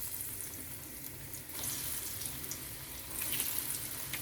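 Vegetable balls fry in hot oil in a frying pan, giving a soft continuous crackling hiss that swells louder partway through, close and fairly quiet with no talking.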